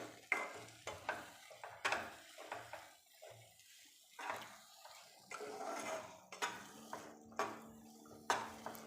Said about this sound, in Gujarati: ધીમે ધીમે એડ કરતા રહીશું અને એક બાજુથી હલાવતા રહીશું.